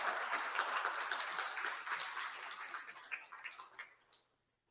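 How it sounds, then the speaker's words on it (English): An audience at a tribunal opening session applauds, a dense wash of clapping that holds steady and then thins into scattered claps before stopping. "don't hold the applause, just go ahead, applaud for all of them."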